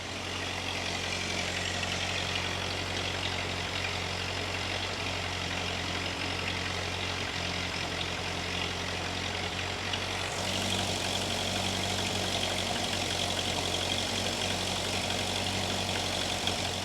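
A 1940s Ford 8N tractor engine running steadily, a continuous close, low rumbling idle with an even texture that shifts slightly partway through, no voices over it.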